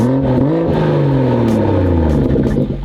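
The engine of a BMW fitted with aftermarket mufflers revs, loud and close, with a deep throaty drone whose pitch climbs and then falls back, holding strong for a few seconds before cutting off.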